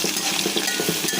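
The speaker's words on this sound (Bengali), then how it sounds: "পেঁয়াজ আর কাঁচামরিচ দিয়ে ভালোভাবে ভেজে নিচ্ছি" Onion, green chilli and shrimp frying in a pan, a short burst of close sizzling with quick, rhythmic stirring scrapes.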